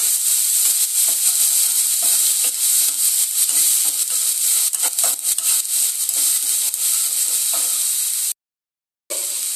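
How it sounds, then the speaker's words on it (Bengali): Onion paste sizzles steadily in hot oil, a loud continuous frying hiss with scraping stirring strokes, cut off briefly near the end, for a Bengali katla fish curry. "পেঁয়াজটাকেও তেলের মধ্যে ঠিক এইভাবে একটু নাড়া দিয়ে নেবো 1 মিনিটের মতো।"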